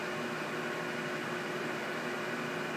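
A Haas TM2 CNC mill spindle at its 4,000 RPM top speed gives a steady, even mechanical whir with a broad hiss, unbroken and constant throughout, with no voices.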